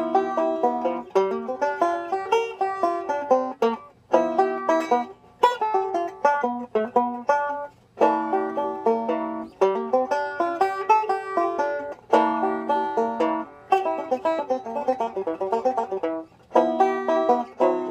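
A solo guitar plays a bluesy melodic line on a G dominant pentatonic scale, quick single notes and short phrases with brief pauses between runs, clear and close.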